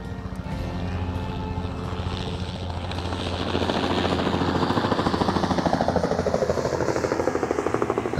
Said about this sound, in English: As the helicopter comes up,